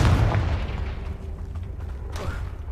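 Confringo blasting spell detonating in Hogwarts Legacy, a close, loud low boom that rolls on as a deep rumble and slowly fades over a few seconds.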